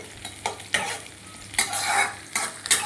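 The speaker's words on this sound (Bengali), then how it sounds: "একটু হাই ফ্লেমে ভাজা ভাজা করে নেব।" Greens and pumpkin stir-fried on high flame for a North Bengal saag dish: bursts of loud sizzling as a spatula stirs and tosses, in several distinct surges, with no voices.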